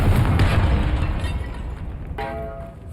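Confringo spell explosion in the video game Hogwarts Legacy: a loud, booming blast with a deep rumble that decays over a few seconds, followed by a brief magical chime near the end.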